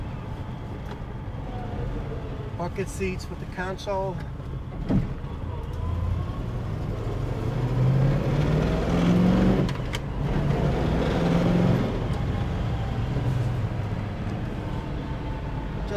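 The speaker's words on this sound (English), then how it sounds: "You can just listen to the car." A 1966 Chevrolet Nova show car's motor runs quietly in the background, a low steady hum that swells briefly, while someone talks over it.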